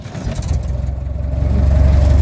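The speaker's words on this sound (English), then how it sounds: "Car starts right up." A 1925 Dodge Brothers touring car engine cranks and catches, the starter whirring in rapid pulses before the motor settles into a rising, steady running note, close by and loud.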